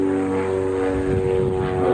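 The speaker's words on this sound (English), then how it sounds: "Yeah, we're definitely by an airport." A propeller-driven airplane drones steadily near an airport in Kalamazoo, a continuous close engine hum with strong low tonal bands that holds level for two seconds, with no talk over it.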